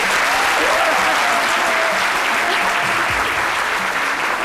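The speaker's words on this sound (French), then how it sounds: "Applaudissements pour lui" A studio audience on a French midday talk show applauds a guest, giving a dense, continuous roar of clapping that stays loud and steady from start to finish.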